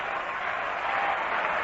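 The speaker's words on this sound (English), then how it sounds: "Rhythmic applause starting here at the Polo Grounds." A ballpark crowd at the Polo Grounds claps in a steady, dense wash of rhythmic applause during a 1962 baseball game, heard from a distance at moderate volume.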